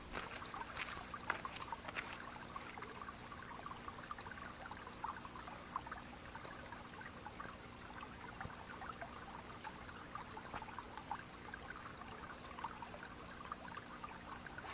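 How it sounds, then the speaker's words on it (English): Water from a stream rushing steadily throughout, as a hiker crosses it on a winter trail, a constant broadband flow with occasional splashes and no talking. "Here's another water crossing."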